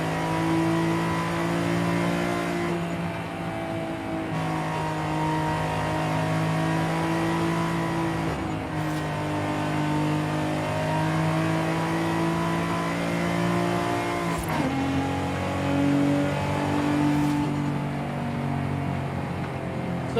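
A 2002 Nissan Skyline GT-R V-Spec II R34 engine revving hard and holding high rpm, with a strong steady drone, brief dips at gear changes, and no talking.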